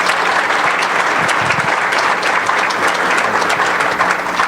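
Conference audience applauds steadily, a dense, even wash of clapping that holds at full strength throughout with no talking over it.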